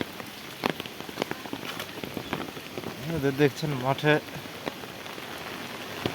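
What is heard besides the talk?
heavy rain falling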